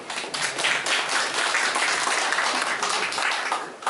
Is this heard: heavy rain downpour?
no